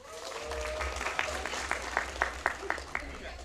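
Applause and scattered clapping ripple through a school board meeting in Decatur ISD, a steady patter of claps from the audience with a few sharper hand claps standing out, continuing at a moderate level over low room hum.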